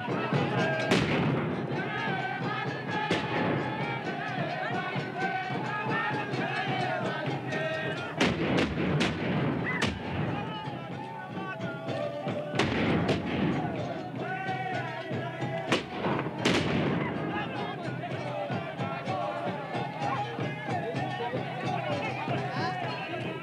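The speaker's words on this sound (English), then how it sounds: "Moldovos say that the sounds of their guns are tears for a lost companion" Repeated gunshots boom throughout a staged tribal mock battle held at a funeral, sharp loud cracks and thuds scattered irregularly over a constant dense crowd din of voices and movement.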